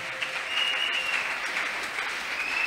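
A church congregation applauds to acclaim the Lord, sustained dense clapping filling the room at steady loudness for the whole stretch.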